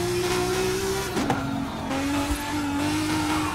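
A powerful car engine in a racing video game holds a loud, steady high-revving drone with a brief dip in pitch as the throttle eases, followed by faint tire squeal.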